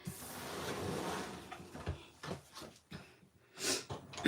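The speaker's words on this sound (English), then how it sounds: "Sorry for my sniffles." Someone with a mild cold sniffles a few times, short nasal snorts and breathy sniffs spaced over a few seconds, close and fairly quiet amid faint room rustling.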